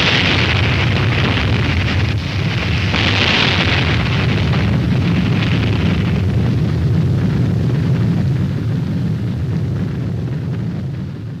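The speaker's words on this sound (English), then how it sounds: "When you drop a nuclear bomb close to the surface, you get this tremendous explosion." A deep, sustained nuclear bomb explosion near the ground surface roars continuously, a heavy low boom with crackling hiss that stays loud throughout before slightly fading at the end.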